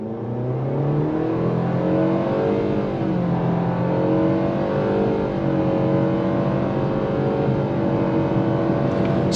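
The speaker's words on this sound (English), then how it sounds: "I'm gonna go on throttle real quick just to show you the acceleration and the grip" A 2025 Nissan Kicks SR accelerating hard under full throttle, its engine note rising steadily and continuously from inside the cabin with no voices over it.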